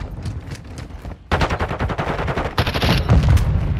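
Rapid automatic gunfire in Modern Warfare 2, loud and close, with dense rattling bursts that pause briefly then resume heavier, punctuated by a few deeper booms near the end.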